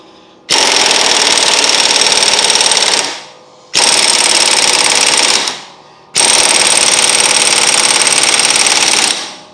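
Pneumatic impact wrench hammering a wheel hub on in an auto repair shop, three loud rattling bursts of roughly three, two and three seconds each, with short pauses between.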